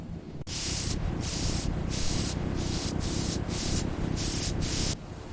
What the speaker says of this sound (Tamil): விமானத்தில் கிருமி நாசினி தெளிக்கப்படுகிறது.